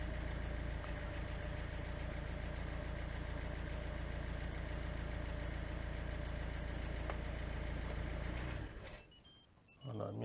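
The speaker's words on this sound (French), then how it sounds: "je vais donner un petit coup d'accélérateur avant de faire la première coupure moteur" A Citroën C8 car engine idles with a steady low hum and faint tonal drone for about eight seconds, then cuts off and winds down to near silence before a brief final stir.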